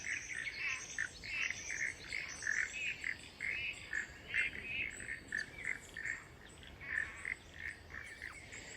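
Outdoor ambience by a creek full of steady chirping and trilling calls, birds and frogs calling in overlapping bursts, moderately close with no talking.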